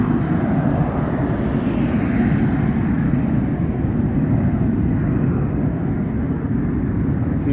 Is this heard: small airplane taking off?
yes